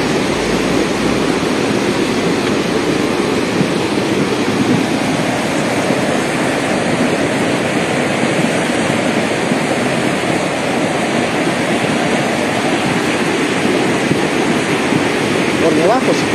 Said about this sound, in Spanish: Son piedras, rocas, que están chocando entre sí debido a la fuerza con la que viene el río.